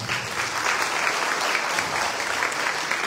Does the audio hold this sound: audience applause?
yes